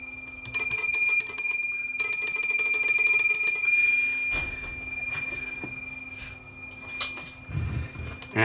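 An antique 68-year-old telephone's metal bell rings loudly and close in two bursts of rapid clanging, then stops, followed by quieter handling clatter.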